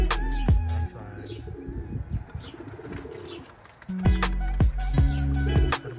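Pigeons in a loft of long-distance racing birds coo close by in deep repeated phrases, with some chirps and wing flaps between bouts and a short quieter gap in the middle.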